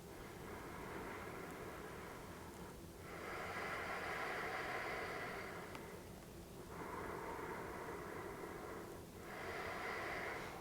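Slow, deep yoga breaths, each a long airy hiss that swells and fades in an even cycle, about three in a row, soft and close with no talking over them.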